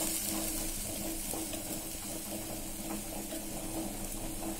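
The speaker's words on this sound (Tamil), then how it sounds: "அப்போ நீங்கள் வந்து வெங்காயத்தை சேர்த்துடலாம்." Onions dropped into hot oil in a pan, seasoned with fennel seeds, for an egg curry: a steady, dense sizzle of frying that holds evenly throughout, close and moderately loud, with no talking.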